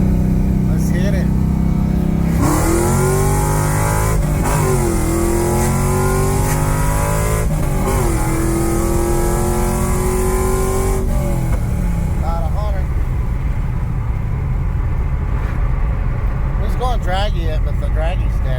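A 2002 WS6 Trans Am accelerates hard, its engine revving up through several gear changes, loud and close from inside the car, then easing off; people talk briefly over it.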